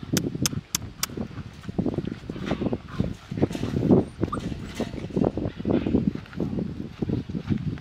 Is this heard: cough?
no